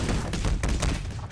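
Rapid gunfire in Garry's Mod, Trouble in Terrorist Town mode: a dense, loud burst of close shots packed together with no pauses.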